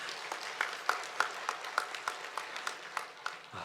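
A church congregation claps in a steady rhythmic beat during a Sunday service, about a dozen evenly spaced claps over a few seconds, moderately loud and fairly close, with no voices.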